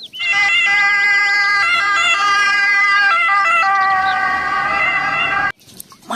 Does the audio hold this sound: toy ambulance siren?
yes